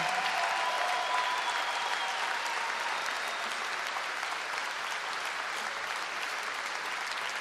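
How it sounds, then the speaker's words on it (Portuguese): A large concert audience applauds for an opera singer in a steady, full burst of clapping, slightly distant and holding its level from start to finish. "Uma salva de palmas para ela."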